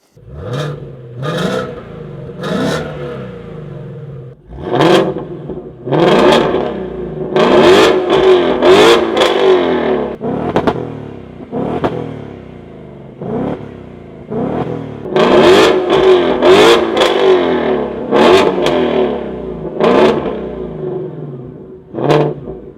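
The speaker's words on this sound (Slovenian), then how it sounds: "pusti ga porevati do 5000 obratov" A Ford Mustang Dark Horse V8 is revved repeatedly up to around 5000 rpm, loud and close, with several sharp rising blips and roaring sustained revs in succession.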